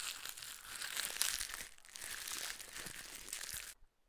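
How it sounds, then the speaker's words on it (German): Leaves rustle in a garden with a close, steady crinkling sound for almost four seconds, then stop abruptly. No one speaks. "Oh, da hinten raschelt was."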